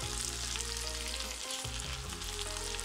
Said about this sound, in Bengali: এবার কিছুক্ষণ ভেজে নিয়ে মাংসগুলোর গায়ে এরকম ঝলসানো একটা